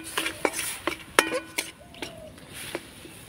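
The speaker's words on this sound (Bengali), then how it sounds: "এবার ঘিয়ের সঙ্গে গাজরের পেস্টটাকে একটুখানি ভেজে নেব" A spoon scrapes and clinks against a pan while carrot paste cooks in ghee, with a few sharp metallic taps, a brief faint sizzle underneath, close and intermittent.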